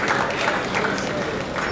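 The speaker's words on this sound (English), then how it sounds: "Keep clapping till he gets here" Guests at a Knight Frank 60th anniversary celebration party clap continuously for an arriving speaker, a fairly soft, even patter of many hands at moderate distance with crowd murmur underneath.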